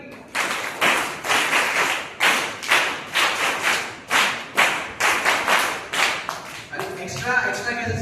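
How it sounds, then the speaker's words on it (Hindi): A live audience claps in a rhythmic group pattern, sharp unified bursts repeating about every half second in sets, loud and close, with a voice speaking briefly near the end. "वीर ताली।"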